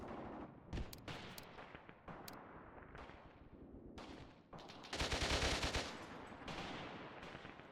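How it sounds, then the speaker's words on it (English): Gunfire aimed at a mortar crew in the war game Mius Front: scattered sharp rifle shots and bursts, then a heavy rumbling volley mid-clip, mixed near and distant, with no speech. "Returning fire now against the mortar system, or the mortar crew, which is good to see."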